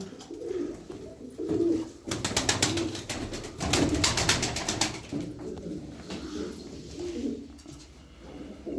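Pigeons coo repeatedly in low, throaty calls, with a burst of wing flapping and rustling in the middle; fairly close and steady.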